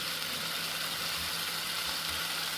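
Steak sizzles steadily in a hot, smoking pan, a constant bright hiss with a faint low hum underneath and no talking.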